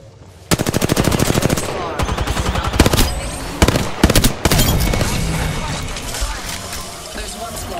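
Gunfire in the battle royale video game Apex Legends: loud rapid automatic bursts and single shots in quick succession, with in-game voice lines heard among the shooting.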